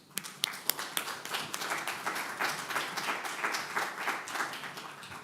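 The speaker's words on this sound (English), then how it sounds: "please join me to welcome Juan with a warm applause" A seated audience at a science talk on Antarctic Peninsula coastal ecosystems bursts into warm applause, starting with a few sharp claps and swelling into steady, dense clapping that carries through to the end.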